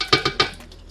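A spoon scrapes through thick jollof rice paste cooking in oil in a pot, three quick close strokes in steady rhythm, then a faint sizzle alone.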